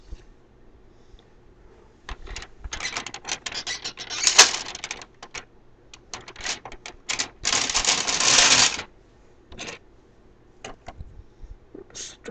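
Knitting machine carriage sweeping back and forth across rows of a lace baby sleeve, a loud rattling clatter in several bursts of one to two seconds with short quiet pauses between passes.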